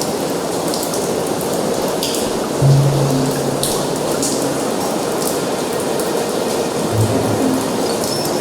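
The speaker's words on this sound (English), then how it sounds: "I can hear the water rushing down the left-hand pipe." Dense continuous rushing of water pouring down the left-hand pipe in the Broken Sword: The Angel of Death adventure game, a steady hiss with a few low thuds and clanks, no talk.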